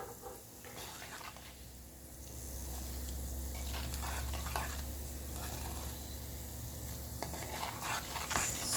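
Cumin and coriander seeds sizzle and fry in a pan, making a steady, soft hiss with faint crackles and occasional stirring scrapes, fairly close.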